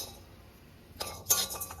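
Whole nutmeg, mace, white pepper and cumin tip into a wok as a brief rattling, clinking scatter that starts suddenly after a quiet lead-in and fades in small bursts.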